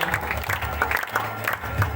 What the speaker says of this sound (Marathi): आपण सगळ्यांनी टाळ्या वाजवून त्यांचं कौतुक